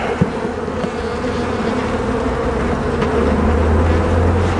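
Honey bees buzz densely and close by as a hive is opened for inspection, a continuous loud droning hum with small shifts in pitch and no speech.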